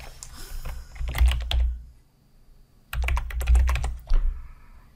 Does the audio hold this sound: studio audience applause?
no